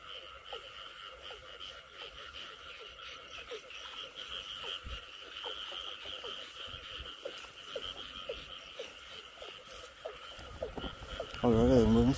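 Male field frogs croak in a rice field ditch in Vinh Long at night, many rapid, repeated calls at moderate distance forming a steady chorus, with a louder rustle near the end.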